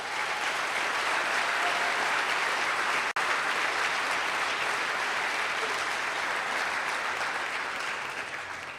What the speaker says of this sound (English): so please join me in a round of applause for those folks.